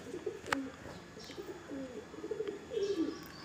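Madrasi pigeons coo softly nearby, giving several short, low warbling calls amid faint background noise.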